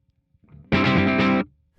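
An electric guitar played through a KHDK Annihilator II pedal with a loud direct signal gives a single thick, distorted chord that rings for under a second, then cuts off. It is heard alone, close and full.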